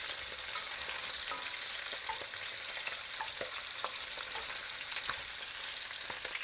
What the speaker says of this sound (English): You want to give the meat a nice sear